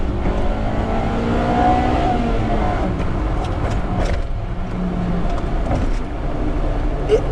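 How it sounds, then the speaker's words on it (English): A Honda Civic Type R's naturally aspirated 1.6 litre VTEC engine with 185 bhp revs hard, its pitch rising early and then settling into a loud, continuous drone heard from the cabin, with no voices. "just listen to the engine go"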